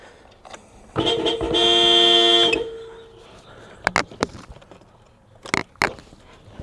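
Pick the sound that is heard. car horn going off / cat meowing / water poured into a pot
car horn going off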